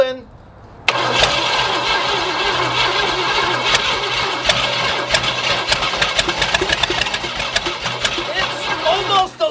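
An old Cadillac 500 V8 that sat for decades cranks and catches, then runs rough and loud at close range with uneven knocks and revving, while people talk over it.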